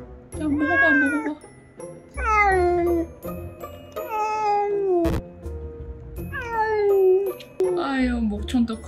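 An angry cat meows loudly and close by: five long, drawn-out, wavering meows with short gaps between them.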